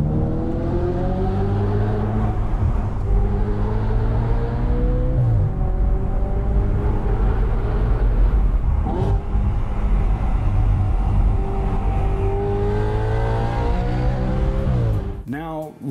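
An Audi quattro engine revs and drones steadily while driving, rising and falling in pitch through gear changes, loud and close with a constant rumble, with voices talking faintly over it.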